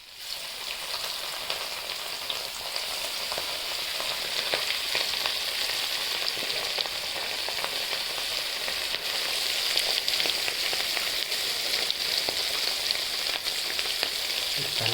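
Fish frying in hot oil, a dense, continuous sizzle and crackle, close and steady throughout without talk.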